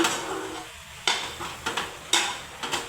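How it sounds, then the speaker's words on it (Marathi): Boiled potato and vegetables being mashed and mixed for cutlets, a series of close, wet squelching presses and scrapes of a utensil in a pan or bowl, coming in uneven strokes. "हे बघा असं मॅश करून नीट मिक्स करून घ्या."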